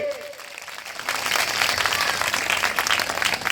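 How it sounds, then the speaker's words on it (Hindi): A temple audience breaks into loud, sustained applause after a brief spoken lead-in, with dense crowd clapping filling the room until the end. "जोरदार तालियां होनी चाहिए"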